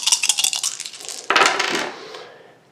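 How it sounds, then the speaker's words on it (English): Five dice are rolled onto a table during a tabletop game, two bright clattering bursts of plastic tumbling and skittering before settling into silence. "So it's going to roll 5 dice."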